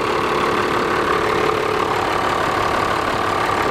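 A 1995 Dodge 3500 dually with a Cummins diesel, P-pump and five-speed manual, idles steadily after a cold start, a loud, even clatter that holds throughout with no talking.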